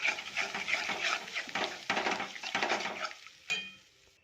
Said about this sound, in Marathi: आता यामध्ये जे आपण दही फेटून घेतले ते दही ॲड करूया छान दही मिक्स करून घेऊया